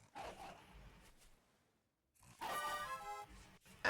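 A dog in the Vintage Story video game gives a couple of rough, growling barks, then a louder snarling bark with a harsh tonal edge after a short silence, fairly close and alone.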